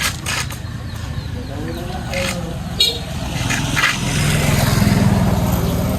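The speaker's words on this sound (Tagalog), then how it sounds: "Ito yung motor." Motorcycle engine idling and revving close by, with a horn toot and some faint voices around it.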